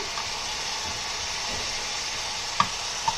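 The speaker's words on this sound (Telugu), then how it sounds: "ఇవన్నీ ఒక 10 మినిట్స్ మీడియం ఫ్లేమ్లో వేపుకుందామండి" Boiled broad beans and vegetables frying on a medium flame for moru kura, a continuous soft sizzle and hiss broken by a couple of sharp utensil taps near the end.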